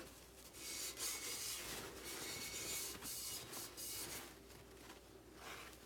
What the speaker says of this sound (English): Some spots are a little harder, you just have to rub a little bit more.